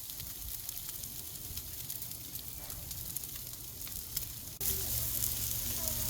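Lamb chops sizzle on a hot grill with a constant soft hiss and crackle, heard alone and fairly quietly, growing slightly louder and fuller near the end.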